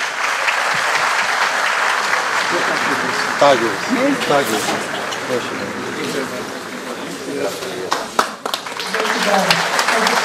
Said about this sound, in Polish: Także jeszcze bardzo bym prosił o wielkie brawa